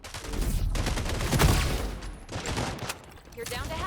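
Rapid bursts of gunfire with freeze bullets during a FragPunk esports match, loud fusillades with short gaps, partly under a caster's talk.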